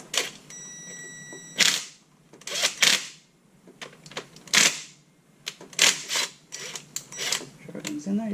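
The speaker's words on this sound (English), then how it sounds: "Go ahead and just snug it up with the impact gun a little bit." Impact gun snugging bolts on a blown 6.1 Challenger engine during a camshaft upgrade, firing in several short, sharp rattling bursts separated by pauses, close and fairly loud.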